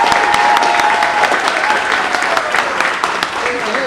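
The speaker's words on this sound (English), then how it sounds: "One last round of applause and welcome for Coach Nicole Woods." Audience applause welcoming Nicole Woods as new head coach of the UNCW women's basketball program, steady dense clapping filling the room throughout, with some voices mixed in.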